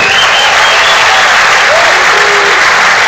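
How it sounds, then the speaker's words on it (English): An audience at a boxing Hall of Fame induction ceremony applauds loudly and continuously, a dense, sustained roar of many clapping hands filling the hall. "Great round of applause for Casu."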